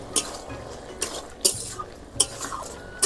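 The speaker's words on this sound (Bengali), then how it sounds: "আর একটু নেড়ে নিই" Food is stirred in a cooking pot with a spoon, producing a few sharp metallic clanks and scrapes spaced about half a second apart over a quiet kitchen background.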